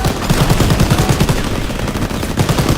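Rapid bursts of automatic gunfire in a WWII train shooter video game, loud and close, with rhythmic volleys at the start and again near the end over a steady battle din.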